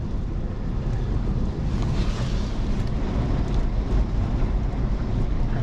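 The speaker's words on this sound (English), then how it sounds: "so windy today." Strong gusting wind buffets the microphone at Kilt Rock on a stormy coastal day, a loud continuous roar with no let-up throughout and no voices.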